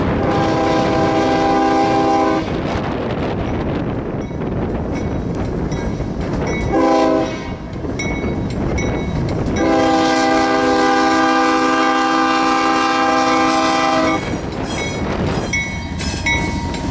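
A freight train led by two heritage GE DC locomotives passes close and loud, blowing long chords on its horn in several blasts over a steady rumble of rolling cars.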